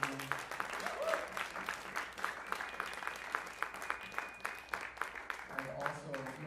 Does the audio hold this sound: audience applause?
yes